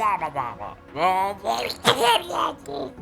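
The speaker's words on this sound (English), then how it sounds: "had to sneeze, sorry" A person sneezes once, a sharp breathy burst after a short voiced wind-up, close to the microphone during a Fire Emblem: Three Houses gaming session.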